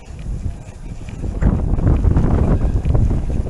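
Strong wind, roughly 20 mph from the west, buffets the microphone on an e-bike ride through the Lincolnshire Wolds, a loud continuous rumbling roar that swells halfway through, with no voices.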